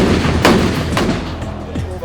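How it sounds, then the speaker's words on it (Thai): Naval cadets' shipboard guns fire during sea training, two or three loud, close booms a half-second apart, with a voice partly audible alongside. "นักเรียนในเรือทุกชั้นปีต้องฝึกยิงปืนทั้งปืนประจำกายและปืนใหญ่เรือ ในการยิงเป้าพื้นน้ำและอากาศ"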